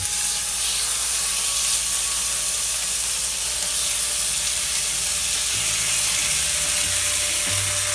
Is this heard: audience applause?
no